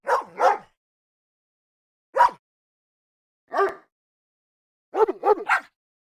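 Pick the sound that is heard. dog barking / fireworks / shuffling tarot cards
dog barking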